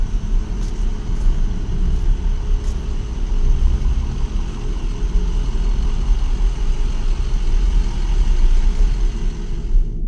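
An ambulance engine idles nearby with a steady, loud, low rumble that runs unbroken throughout, with no voices over it.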